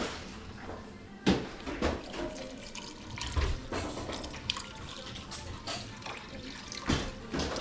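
Measured water being poured into a cooking pot of kidney beans, an uneven splashing and trickling with a few louder gushes and drips, fairly quiet and close.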